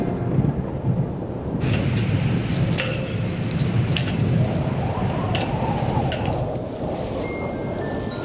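Steady rain pours and hisses continuously at sea during a storm, with scattered sharper drops and patters standing out against the wash.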